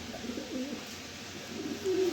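Soft, low cooing of pigeons, repeated murmuring calls close by, with a quiet background hum.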